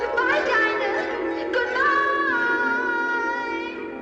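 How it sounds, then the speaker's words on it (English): Orchestral passage built on the whole tone scale from Disney's Alice in Wonderland, with sustained strings and winds gliding through dreamy, hazy harmonies, loud and continuous with no talking. "what you're hearing is the whole tone scale"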